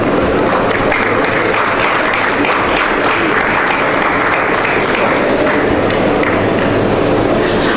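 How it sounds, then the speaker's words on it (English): Sustained applause from an audience at an event for Mr. Rajiv Joshi, a dense steady wash of clapping that holds loud for the whole stretch with no pause. "put your hands together for Mr. Sanjeev Chauhan"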